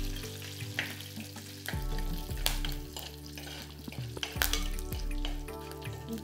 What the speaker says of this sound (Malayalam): ഒരു രണ്ട് തണ്ട് കറിവേപ്പിലയും കൂടെ ഇട്ട് കൊടുത്ത് ജസ്റ്റ് ഒന്ന് ഇളക്കാം.